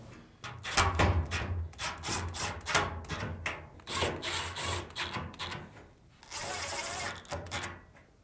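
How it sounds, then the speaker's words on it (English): Screws being driven back into a Samsung dryer with a powered driver, a series of short buzzing whirs and clicks, close and moderately loud, ending in a longer sustained run. "Now, reinstall the 4 screws."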